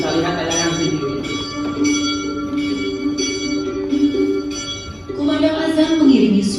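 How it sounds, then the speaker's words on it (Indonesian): Church bells at the Catholic Church of Saint Servatius in Kampung Sawah, Jati Melati, Bekasi, West Java, ring in quick repeated strikes, fairly loud, mixed with a chanted call to prayer. "Kumandang azan mengiringi suara lonceng dari Gereja Katolik Santo Servatius Kampung Sawah, Jati Melati, Bekasi, Jawa Barat."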